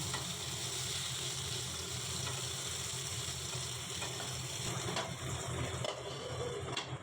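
Potatoes fry with a low, steady sizzle in a pan, fairly faint, with a few light scrapes near the end.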